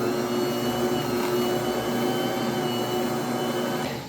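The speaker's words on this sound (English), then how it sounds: "I'm going to go ahead and let this knead on my mixer" A stand mixer runs steadily, mixing yeast into bread dough at a constant motor whine with a continuous hum and no pauses, fairly loud and close, with no talking.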